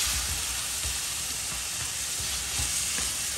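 Moong dal roasting in a pan for a dhaba-style dal tadka, a steady close sizzle with soft scraping stirs throughout, no voices.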